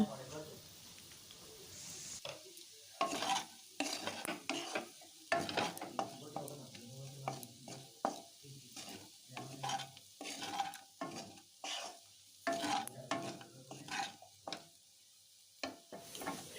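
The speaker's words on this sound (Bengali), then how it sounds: "সবজিটা এখন ভাজা হয়ে গেছে" Winter vegetables with chilli and salt fry in a pan, with sizzling broken by repeated bursts of scraping and stirring, and a person talking throughout.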